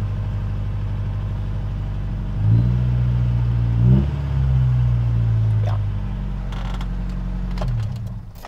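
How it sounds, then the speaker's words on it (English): A project car's engine idles with a steady low rumble, then revs up in two short surges and a longer sustained rise, heard close up indoors with no talk. "let's hear the vehicle a little bit. Let me rev it up a little bit."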